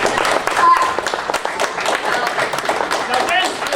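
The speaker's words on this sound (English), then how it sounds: "Clap, it means clap." Dense, steady clapping from a convention audience welcoming a horror film panel, close and loud, with voices and cheers mixed in throughout.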